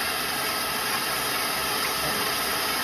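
An electric mixer whips egg whites for a lemon cream pie frosting, giving a constant even whirring hum with no breaks and no voices.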